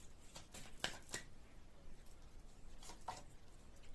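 Tarot cards shuffled and drawn by hand, a few quiet close riffles and soft flicking slides of cards over a faint background, no voices.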